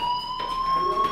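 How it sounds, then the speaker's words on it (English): A fire alarm in the video game Life Is Strange sounds as a steady, continuous high electronic tone with harmonics, held without a break over faint background ambience and no speech. "do you hear that fire alarm?"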